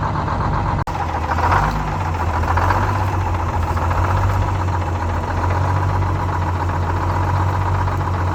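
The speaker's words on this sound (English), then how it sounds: "I love a cold start in Detroit" A Detroit Diesel 6-71 in a 1967 International Fleetstar 2000 truck fires up from cold and settles into a loud, steady, rough diesel idle with a low knocking throb, close by and continuous.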